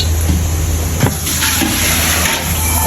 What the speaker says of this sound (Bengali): বসাই দেওয়ার জন্য এখানে পরিমাণ মতো পানি নিয়ে নেওয়া হইতেছে।